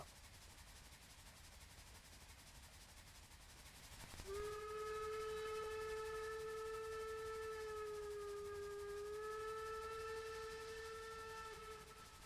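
German armored train model in the Trainz railway game sounding a sustained steam-style whistle with a rich harmonic stack that starts abruptly and holds steady for about eight seconds over a low rumbling background.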